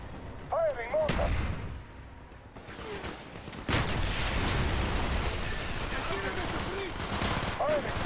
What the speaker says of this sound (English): Firing mortar!